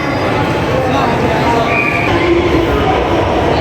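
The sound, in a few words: Orange Line metro train arriving in Lahore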